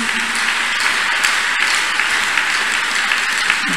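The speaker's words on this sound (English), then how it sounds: "A big clap offering to Jesus." A church congregation claps and cheers in a loud, continuous wash of applause at a healing and deliverance service, steady throughout with no speech over it.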